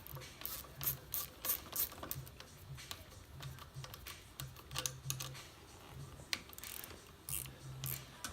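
A 10mm wrench tightens a tie rod while a bike is reassembled, giving a close, steady series of quiet ratcheting clicks and small metallic taps spread across the whole stretch.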